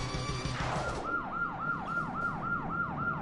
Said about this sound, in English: The sirens are part of the theme song.